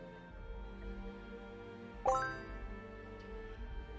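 A single bright donation alert bell chime rings out during a Fallout 76 charity livestream and rings for a moment over quiet background sound.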